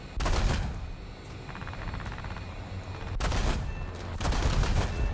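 Rapid bursts of aircraft cannon fire from a Soviet jet in War Thunder, the same cannons as the MiG-15, loud and close, with a pause between volleys and a second burst that carries on to the end.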